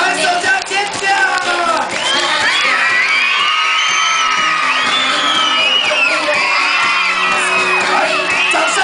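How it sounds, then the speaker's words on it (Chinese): A magic show audience cheers, whoops and screams loudly and continuously, with children shouting and claps mixed into the dense crowd noise, while music and a voice sit faintly underneath. "手举高，用力拍手，这样尖叫！"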